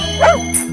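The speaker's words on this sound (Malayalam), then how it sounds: "പതുക്കെ കുരക്കടാ" A single short dog bark, loud and close, followed by a faint high yip.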